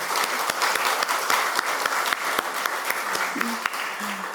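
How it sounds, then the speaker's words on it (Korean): A church congregation at a Sunday worship service applauds steadily, with scattered sharper claps popping out of the dense patter while a voice speaks over it. "우리 다 같이 박수로 인사드리겠습니다."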